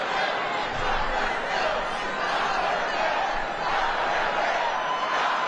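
Large Trump rally crowd roaring and cheering in a continuous, dense wash of voices with scattered laughter, loud and unbroken throughout.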